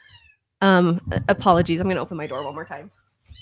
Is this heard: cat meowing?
yes